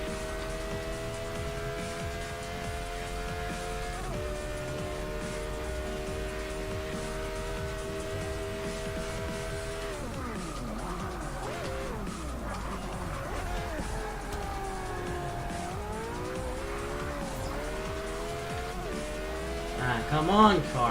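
A BMW 3.0 CSL race car drives in Forza Motorsport 6 at Virginia, its engine droning steadily and loudly, then rising and falling through gear changes, with brief tire squeal as it squeezes past traffic.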